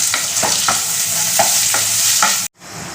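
Yardlong beans with turmeric and a little salt fry and sizzle loudly in a pan, a steady hiss broken by several scraping stirs, cutting off abruptly near the end.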